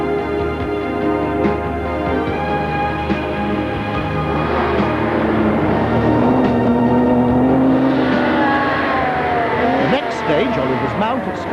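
Rally cars revving and setting off on a stage at 15-second intervals near Scarborough, engines rising in pitch with some tire noise, while someone talks over the sound.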